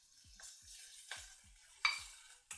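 Food, likely octopus, being tossed in hot garlic oil with a pinch of salt in a pan, with repeated soft stirring scrapes and brief clinks over a faint sizzle, heard close with no talk.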